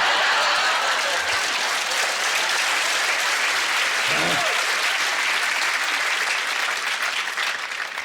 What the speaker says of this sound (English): I love that kind of applause.